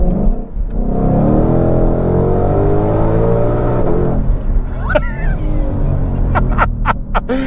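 A Ford Mustang Shelby, GT350R or GT500, accelerates on a public road with a loud, sustained engine drone heard from inside the car. It rises steadily before easing off, followed by a few sharp clicks near the end.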